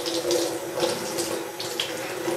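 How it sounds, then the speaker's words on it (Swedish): Tap water runs steadily into a sink as a face is rinsed, a continuous close splashing hiss with small bursts from hands moving through the stream, no voices. "Nu sköljer jag av ansiktet bara."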